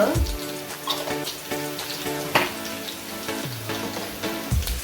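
Asafoetida (hing) sizzles as it hits hot oil for a prawn and tender cashew bhaji, a steady crackling fry under a tonal background, with a louder burst at the start and a fresh flare near the end.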